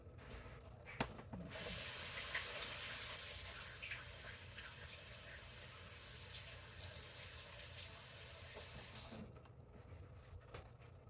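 A kitchen tap runs while hands are washed, a loud steady gush of water that starts after a second, splashes and shifts as the hands move, then cuts off near the end.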